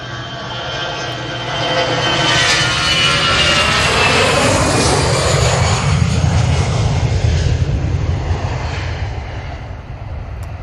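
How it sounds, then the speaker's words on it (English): An Airbus A320 jet airliner departs for Tibet, its engines roaring loud and close in a broad, sustained rumble that swells and holds throughout, with no talk. "This is off to Tibet. It's A320."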